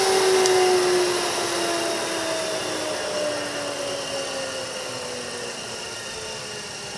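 A Toyota electric motor running on 12 volts hums and whines steadily close by, then winds down as power is cut, its pitch sliding slowly lower and the sound fading a little over several seconds.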